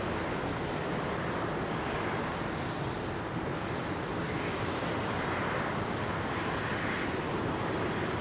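A Lockheed C-5 Galaxy at Heathrow Airport produces a steady, broad roar of jet engines that holds evenly throughout, loud and continuous with a slowly shifting whoosh.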